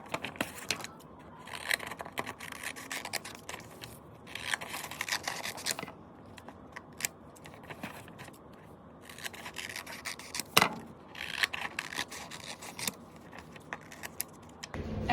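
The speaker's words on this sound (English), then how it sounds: "I'm now gonna go ahead and cut out my little handle with care slips." Scissors snip through paper in a classroom, cutting out small slips in repeated bursts of crisp, close snipping and rustling, with short pauses between runs.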